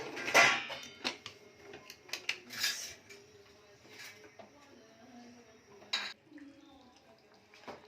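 Cooked goat tripe is tipped out of a pot into a dish, with scattered metallic clinks and scrapes of spoon against cookware, a few sharper clanks standing out among quieter shuffling sounds.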